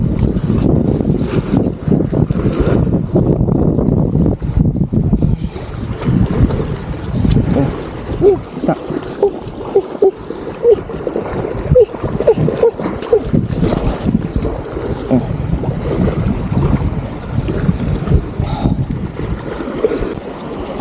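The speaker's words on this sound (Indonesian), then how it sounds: "angin pun teruk lah ni" Strong wind at sea buffets a small fishing boat out catching prawns, roaring and gusting into the microphone without pause. The engine and water rumble underneath the wind.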